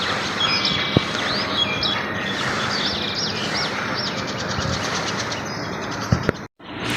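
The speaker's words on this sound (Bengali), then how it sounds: "এই যে আমার কবুতর।" Domestic pigeons are kept outdoors in the evening. Repeated small chirping and calling bird sounds carry over a steady outdoor hum at a moderate distance, with a sharp knock and a brief dropout near the end and no talking.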